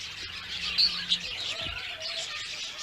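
Budgerigars in a cage chirp and twitter in a busy, continuous chatter with a couple of sharper peeps standing out, fairly close and with no talking.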